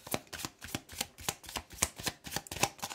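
Tarot cards are shuffled close by in a steady run of quick, rhythmic riffling bursts, about three per second, with no voices.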